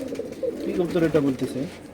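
Giribaz pigeons, an Indian chakpilong breed kept at a large pigeon farm, coo in soft, overlapping low throaty rolls close by, with people talking over them.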